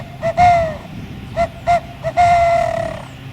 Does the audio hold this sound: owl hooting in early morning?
yes